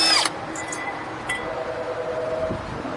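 An impact gun fitted with a 21 mm socket removes the brake caliper bracket bolts on a 2017 Dodge Grand Caravan. It gives a loud, short burst at the start, then a fainter, steady mechanical whine and a brief second hit.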